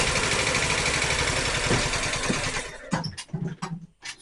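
A small engine cranks and tries to start, a loud rattling mechanical churn for about three seconds, then stopping into a few uneven sputters and knocks.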